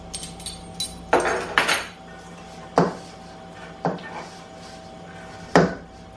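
Spoon stirring a peanut butter squares mixture with vanilla added, a series of irregular scraping knocks and clinks against the bowl, spaced apart and fairly close.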